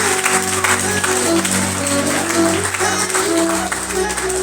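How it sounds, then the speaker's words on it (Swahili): A church congregation clapping and applauding for Jesus during a gospel service, a dense continuous roar of hands with a steady droning tone underneath, loud and sustained from start to finish. "Ongeza makofi ya Yesu Bwana"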